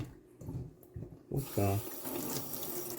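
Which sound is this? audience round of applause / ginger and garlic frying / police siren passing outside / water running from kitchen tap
water running from kitchen tap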